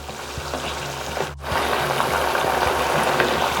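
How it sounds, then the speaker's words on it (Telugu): Coconut oil with chopped aloe vera bubbles and simmers in a pan, a continuous close hiss and crackle that dips briefly before resuming at a steady level. "కోకోనట్ ఆయిల్ని, కొబ్బరి నూనెని ఉడికించాలి"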